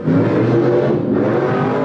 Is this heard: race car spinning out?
yes